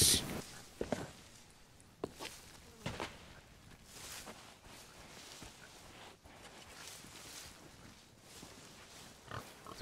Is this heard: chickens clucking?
no